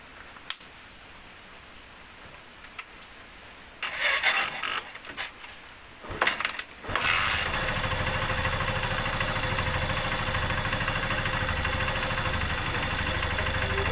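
Motorcycle engine that misfires and stalls after getting wet in rain, cranking in a few rough bursts before catching and settling into a steady, fairly loud idle.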